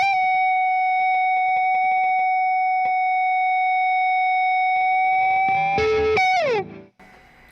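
An electric guitar played through compressor and distortion pedals holds a long, steady sustained note, with a few picked notes layered over it before a final bend slides downward and the sound cuts out.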